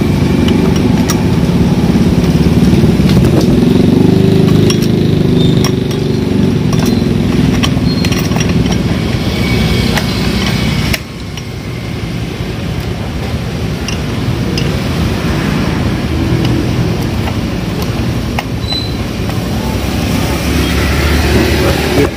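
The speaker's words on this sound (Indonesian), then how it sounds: "Otomatis starter." A motorcycle fitted with an automatic starter runs continuously nearby, with a loud, steady engine drone that dips slightly partway through and then carries on.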